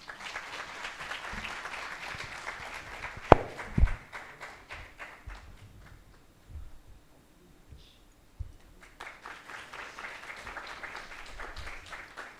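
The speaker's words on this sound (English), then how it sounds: "A big round of applause for the incredible performers." An audience at a leadership summit in Bhubaneswar applauds the performers of a stage act. Dense clapping fills the room, fades into a quiet stretch with a few taps and shuffles, then swells into steady applause again.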